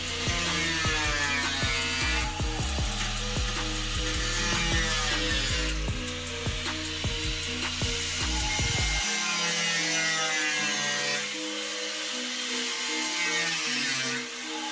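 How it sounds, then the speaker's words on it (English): Power tool cutting rusted sheet metal from the rear body and trunk area of a 21-year-old Mazda Miata, a continuous loud grinding whine with sharp rasping bursts through the first part, then a thinner high-pitched cut that runs to the end. "He's cutting the rust out of the back."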